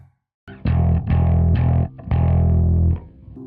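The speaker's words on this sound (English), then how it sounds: "Bass overdrive." A Lakland 4401 bass guitar plays a few low, gritty notes through an overdrive pedal, loud and up close, with two long held notes ringing out.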